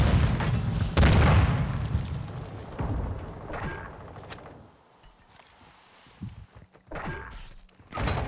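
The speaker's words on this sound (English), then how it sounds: "Didn't see him through the mortar strike." Mortar strike explosions in Call of Duty: Modern Warfare II, with heavy booming blasts and crashing debris, one loud hit near the start followed by several more impacts scattered through the clip, fading between them.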